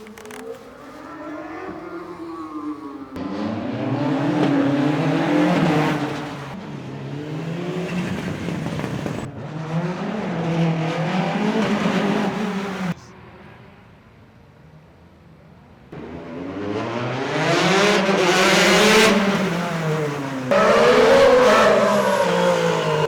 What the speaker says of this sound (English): So we're trying to work and there's a rally on.